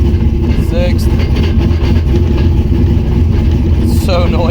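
Modified car with a Detroit locker rear differential, converted from a six- to five-speed gearbox, clunks and drones loudly while driving, engine noise steady throughout with someone talking over it.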